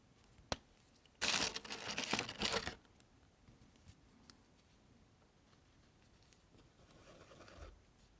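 A white pen scratches quickly across paper in a quiet setting, a close, crisp burst of scribbling strokes lasting over a second, followed by fainter, sparser scratches and a small tap.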